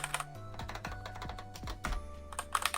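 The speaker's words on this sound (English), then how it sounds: "So my keyboard is a Keychron K6, and you can hear, you can probably hear a difference." Quick, uneven keystrokes on a Keychron K6 mechanical keyboard with brown switches, close and crisp, each press a distinct clack, with no talking.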